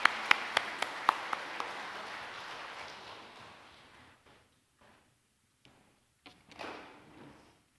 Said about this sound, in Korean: 들어가실 때 다시 한번 환영의 박수 주시기 바랍니다.